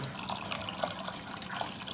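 Water runs and splashes into a kettle, with a few bright drips and gurgles over a steady trickling flow.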